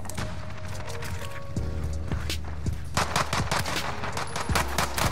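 Rapid automatic gunfire in a multiplayer first-person shooter match, dense bursts of shots that grow louder and more continuous in the second half, with steady game background sound underneath.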